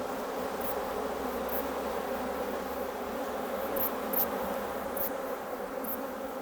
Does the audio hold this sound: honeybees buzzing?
yes